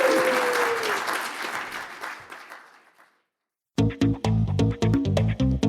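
An audience at a live show in New York City breaks into loud applause that gradually fades to silence, and then a voice speaks over it.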